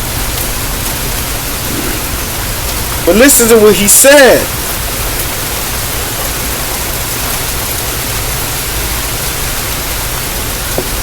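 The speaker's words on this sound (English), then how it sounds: "It's fucking raining like shit." Heavy rain pours outside in a dense, continuous hiss that stays steady throughout, with someone briefly speaking over it partway through.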